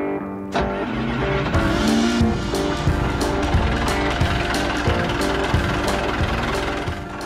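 An old 1965 sailboat's inboard engine runs steadily at close range, a continuous low mechanical drone with repeated clanking knocks, starting abruptly after a brief quiet moment and continuing without talk.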